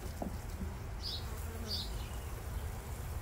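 Honey bees buzz steadily at an open beehive under a low background hum, with a couple of brief higher-pitched insect whines passing close by.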